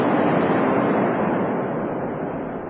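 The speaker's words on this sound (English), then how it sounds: "There's a large explosion. Sounds a large explosion." A large explosion in a city at war, heard as a loud, broad roar that fills the whole clip and slowly fades away.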